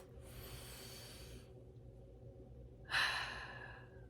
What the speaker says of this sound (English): Take a nice, easy breath.